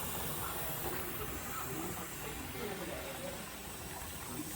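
A pressure canner holds a steady, even hiss of escaping steam while canning red potatoes, a continuous rushing sound at a fairly faint level with no pauses.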